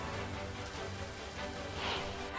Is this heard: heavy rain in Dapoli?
yes